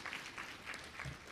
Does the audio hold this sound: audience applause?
yes